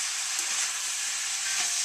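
Bok choy stir-frying in a hot pan, a loud, even, high sizzling hiss with slight rustling from stirring, close and continuous, no voices.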